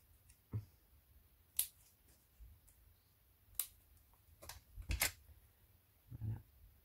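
Scissors cut paper for handmade paper flowers: a few sharp, separate snips spaced irregularly, close and fairly quiet against a still background.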